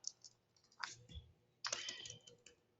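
A few short bursts of key presses on a computer keyboard while a name is typed, quiet and close, with brief pauses between the clusters.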